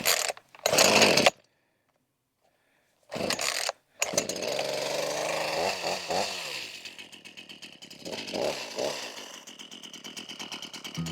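A chainsaw cuts logs down to 14 feet long, first in short bursts with gaps of silence, then revving and running loud and close for several seconds as it bites into the wood.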